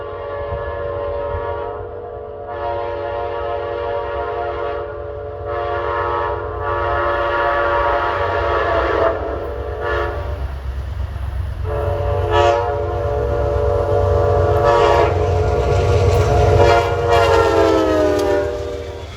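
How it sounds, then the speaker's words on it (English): An eastbound Amtrak passenger train, the Pennsylvanian, roars past, its loud multi-tone horn blasting several times over the rumble and clatter of the cars. "Now coming east at 152 is Amtrak 42, the Pennsylvanian from Pittsburgh to New York"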